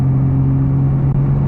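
A Nissan Skyline R34 with an aftermarket clutch eases on the throttle in third gear from about 2,000 RPM, a loud, steady low engine drone with a firm humming tone filling the cabin.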